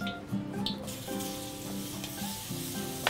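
Minced garlic sizzles in hot cooking oil in a pan, a steady close crackle throughout as it is stirred with cooking chopsticks, with no talking.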